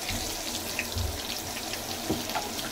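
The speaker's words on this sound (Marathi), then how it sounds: "थोडस फ्राई करूया तेजपत्ता बटरमध्ये" Bay leaf frying in melted butter in a kadhai, a steady close hiss and crackle of sizzling fat running evenly throughout with a few faint pops and no talk.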